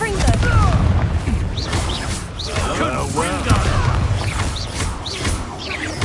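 Confringo fire spell blasts in the video game Hogwarts Legacy: booming explosive bursts near the start and midway, set among whooshing magical effects and busy game sound.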